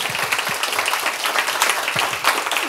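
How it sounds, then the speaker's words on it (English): Steady, broad audience applause fills a hall at a tech conference panel, a continuous wash of many hands clapping with a few individual claps standing out, no talking over it. "Everyone, a big round of applause."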